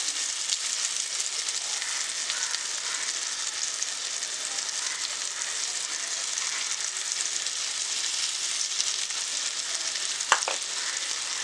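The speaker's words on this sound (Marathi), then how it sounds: "तेलात तळून घ्यायचे." Kupa fish fries in oil over low heat, a steady dense sizzle that holds even and close throughout, with one brief sharp crackle near the end.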